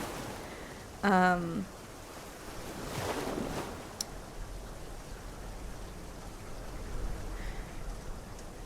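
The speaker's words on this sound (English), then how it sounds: "The heavy rain continues well into the night." Steady hiss of heavy rain fills the whole stretch, with a brief tonal sweep near the start and a faint click partway through.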